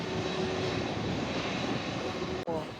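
A jet airliner engine roars loudly and steadily at an airport, a close continuous whine and rumble with a brief dropout near the end.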